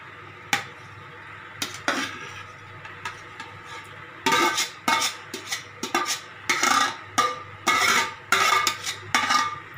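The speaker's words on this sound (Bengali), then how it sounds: "শক্ত মাছ তো ট্যাংরা মাছটা, এবার আমি এটাকে আস্তে আস্তে ঝোলের মধ্যে দেখো দিয়ে দিচ্ছি" Tangra fish goes piece by piece into a pot of simmering curry gravy, producing a series of close clinks, knocks and wet scraping sounds against the pot, sparse at first and then in a steady run of regular bursts.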